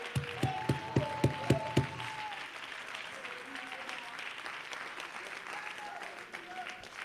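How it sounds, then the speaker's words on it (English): A church congregation claps in unison, with several sharp, rhythmic claps at the start, then a softer, scattered wash of clapping under singing and voices in the sanctuary. "Clap your hands to the Lord."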